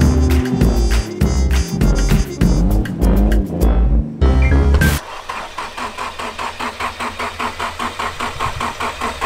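A car engine cranks with a run of regular starter pulses, catches, and settles into a steady, loud, rhythmic idle nearby.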